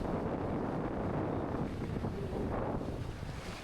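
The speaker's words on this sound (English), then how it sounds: "Pretty windy" Strong wind buffets the microphone on a beach at Playa del Carmen, a steady loud roar of rumbling gusts that continues for the whole stretch with no talking.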